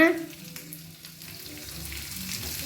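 Capsicum, carrot and onion frying together in a pan, giving a steady close sizzle with soft stirring scrapes and no talking.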